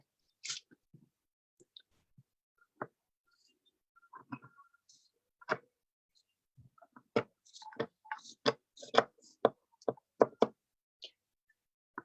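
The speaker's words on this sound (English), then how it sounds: "Show you guys while I'm chopping these." A knife chopping through a slab of homemade peanut butter fudge into squares, sparse soft knocks at first, then a quicker run of crisp, slightly crunchy cuts against a board, close and alone.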